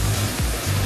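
Waterfall at the first falls on Luzon in the Philippines: a steady, dense roar of rushing water, loud and close, with no voices.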